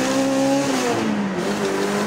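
A turbocharged 2000 Toyota MR2 Spyder with a 2ZZ-GE engine runs at 10 psi of boost. A loud engine roar rises through a quick gear change, heard up close with a broad rushing noise and no talking.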